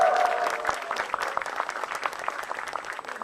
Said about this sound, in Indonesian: Tepuk tangan untuk rakyat Indonesia